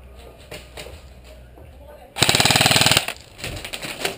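Airsoft guns fire in a rapid, loud automatic burst of evenly spaced shots lasting under a second during an outdoor village skirmish, followed by scattered single shots, with players talking before and after.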